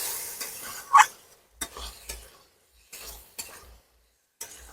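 Fried eggplant being stirred into spice masala in a pan, a spoon scraping in a few separate strokes with faint sizzling between, near and fairly quiet with no talk.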